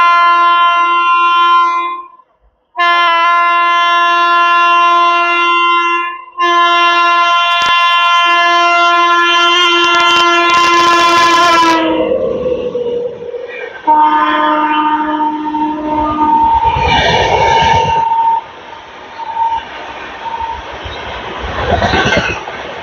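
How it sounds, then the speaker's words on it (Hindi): An Indian express train, the New Delhi–Darbhanga Bihar Sampark Kranti Express, arrives at Anand Vihar Terminal. It sounds a long, loud, sustained horn in several blasts, followed by the rumble and clatter of the passing coaches. No one speaks. "तो सामने से आ रही है नई दिल्ली दरभंगा बिहार संपर्क क्रांति एक्सप्रेस।"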